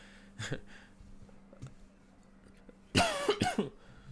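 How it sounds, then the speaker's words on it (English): Two separate bursts of coughing, a short one first and a louder, harsher double cough a couple of seconds later, over a faint low hum. "this cough's getting bad"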